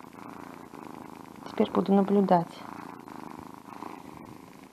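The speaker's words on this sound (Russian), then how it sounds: "Все хорошо, уже мурлыкаем, да?" A domestic cat purring right after a bath, a low steady rumble close by, while a person talks over it.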